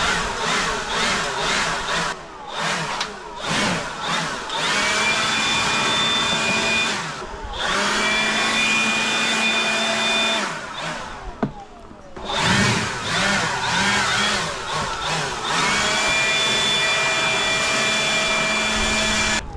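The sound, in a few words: blowing debris off everything with a blower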